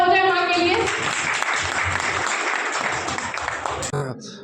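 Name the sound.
applause for mothers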